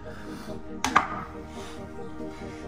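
Bread dough dropped by hand into a bowl lands with a single soft, dull thump in a quiet kitchen, with a faint second knock right after.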